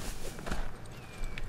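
Horse hooves clip-clopping in Assassin's Creed 3, a few quick, light footfalls at moderate distance over a faint game ambience, with no talking.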